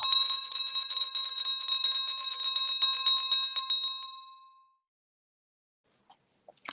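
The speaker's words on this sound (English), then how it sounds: "You're going to hear a bell." A bright metallic bell rings for a mindfulness moment, struck in quick repeated strikes for about four seconds before it stops abruptly, followed by near silence and a few faint ticks.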